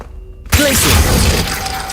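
An ice spell shatters in Hogwarts Legacy with a sudden loud crack and a crystalline crunch, followed by a sustained icy rumble and a fading ringing tail.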